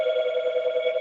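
Phone ringing nearby with a steady electronic warble, pulsing continuously for about a second with no talk over it.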